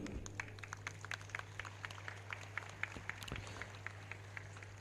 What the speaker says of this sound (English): I could hear the staff is giving claps